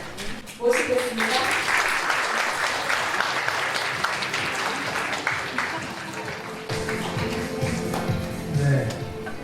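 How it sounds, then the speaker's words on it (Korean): Audience applause fills a chamber music concert hall at a hospital medical center in Daegu, Korea. Dense, steady clapping holds for about nine seconds with a few faint voices mixed in. "박수로 예, 모시겠습니다."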